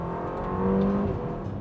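A Ferrari Amalfi supercar engine accelerating, heard as a sustained tonal engine drone that rises briefly in pitch and loudness, close and steady, with no talking.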